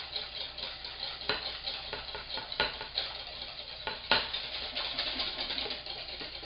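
A whisk works steadily through sauce in a bowl held over hot water, making continuous soft scraping and clinking strokes with a few sharper taps against the bowl, close and alone.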